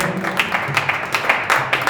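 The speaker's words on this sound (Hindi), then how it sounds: "आप ताली बजा दें।" An audience at a Hindi poetry gathering applauds loudly and close by in a dense, continuous burst of hand clapping with no speech over it.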